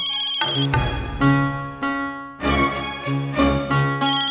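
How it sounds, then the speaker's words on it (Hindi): A phone ringtone plays loudly and clearly on its own, a repeating electronic melody of bright tones with short pauses between phrases. "फोन सुनेगा?"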